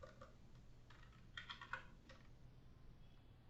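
Soft typing on a computer keyboard, a light run of quiet key clicks with a brief, slightly busier flurry in the middle, heard alone against faint room hum.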